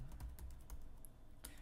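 Keys clatter on a computer keyboard while details are typed into a Zoom sign-up form on a Mac, a quick run of close, crisp taps with short pauses.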